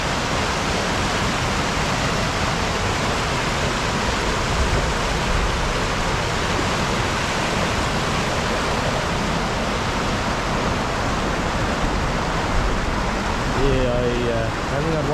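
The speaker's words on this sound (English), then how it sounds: "That water is flowing fast." Fast-flowing river water on a walk in Calgary: a loud, dense, unbroken rushing roar that holds steady from start to end, close by, with a brief faint voice near the end.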